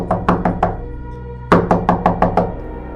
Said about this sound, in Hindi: अयान के दरवाजे पर किसी ने दस्तक दी।